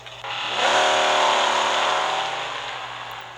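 A 1969 Dodge Charger RT engine roars in Real Racing 3, starting abruptly and swelling into a loud, sustained, buzzy tone that eases off gradually toward the end. No voices.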